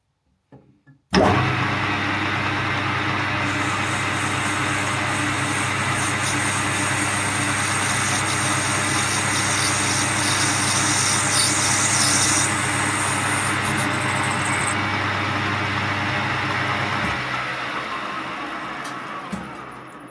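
A lathe turns a pool cue butt joint with a loud, steady motor hum and hiss that runs unbroken for most of the stretch, with a higher cutting tone partway through before it winds down.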